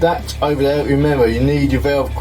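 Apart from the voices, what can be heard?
No everyday noises stand out.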